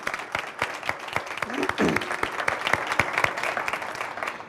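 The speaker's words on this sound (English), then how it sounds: "let's start with a round of applause for Barbara" An audience applauds at an energy and construction summit, a dense patter of clapping that holds steady for several seconds while a voice speaks briefly through it.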